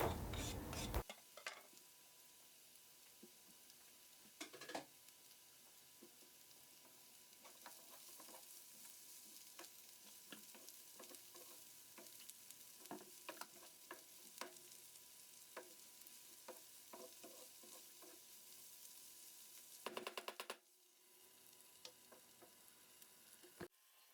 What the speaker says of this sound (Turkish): Üzerlerine biberleri ekliyorum ve kavurma işlemine devam ediyorum.